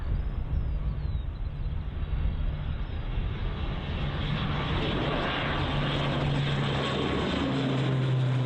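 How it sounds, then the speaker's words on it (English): An ATR 72 turboprop airliner departs from Bristol Airport bound for Jersey, its steady propeller and engine roar loud and continuous throughout, with a droning tone rising as it climbs away. "Jersey goes the ATR 72"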